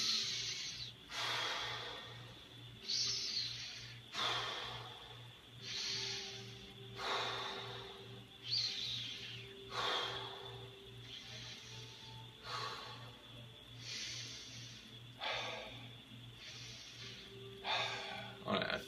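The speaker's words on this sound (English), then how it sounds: "Let's do 10 deep breaths." About ten slow, deep breaths drawn close to the mic, each inhale and exhale a soft airy rush repeating in a steady rhythm over a low constant hum, with no talking.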